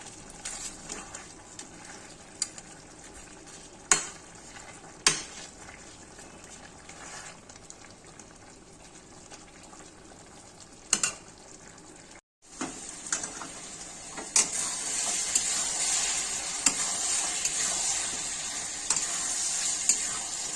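Bay leaves and spices for mutton curry sizzle steadily in a hot pan, with occasional sharp clinks of a spoon against the metal, a brief pause midway and a louder hiss afterward.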